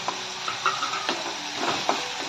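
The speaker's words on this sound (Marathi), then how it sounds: "हे चांगलं 2-3 मिनिटांसाठी परतून घ्यायचं आहे व्यवस्थित।" Pithla ingredients sautéed with green chili thecha in a pan, giving a soft, steady sizzle with scattered scraping and stirring clicks from a spoon against the pan; close and moderate, with no talking.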